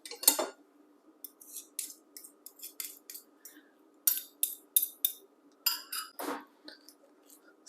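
Metal utensil scraping and clinking against a bowl as hard-boiled egg yolks are mashed and mixed with lemon pepper seasoning for deviled egg filling, a run of irregular short taps and scrapes, close and fairly quiet, with no talking.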